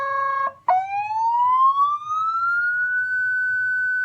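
A Storm 200 electronic siren sounds a steady tone, cuts off briefly, then glides upward into a higher wail that holds loud and clear with nothing else heard.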